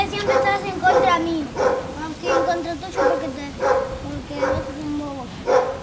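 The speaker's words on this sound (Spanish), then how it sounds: "¿Hay un perro?" A dog barks in repeated sharp bursts, about six evenly spaced barks at moderate distance, while a child and an adult talk over and between them.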